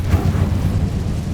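The Incendio fire spell goes off in Hogwarts Legacy as a dense, rumbling burst of fiery roar that fills the whole moment, loud and close with no talk.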